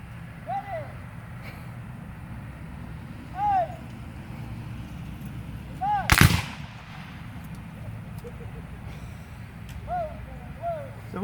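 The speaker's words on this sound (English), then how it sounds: "So what they did there was fire a volley." Cavalry troopers fire a volley together at a Civil War demonstration on the Stones River battlefield, one loud, sharp crack standing out from steady outdoor ambience, with people talking faintly before and after.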